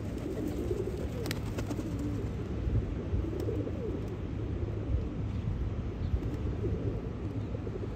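Domestic pigeons coo in a continuous low murmur, several birds overlapping close by, with no talking.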